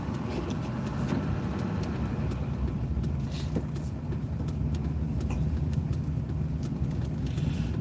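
A pickup truck carrying about half a ton of ballast in the back plows snow, its engine running in a steady, continuous drone with faint scraping and crunching throughout.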